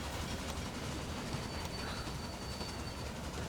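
Train running in the railway video game Railway Empire, a steady low rumble and rolling wheel noise with a faint high squeal, constant and moderately quiet with no talk.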